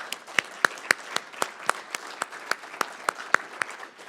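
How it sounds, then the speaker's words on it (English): Applause at an agriculture and agritech forum in Surrey for a panel, heard as a short run of steady, evenly spaced claps, fairly close and clear, with no voices over it. "Everyone, a round of applause for our panel."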